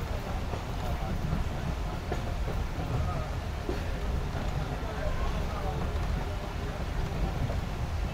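The Karakoram Express, an old-coach passenger train, rolls steadily around a curve on its Lahore run, a dense continuous rumble with faint clatter heard close from on board.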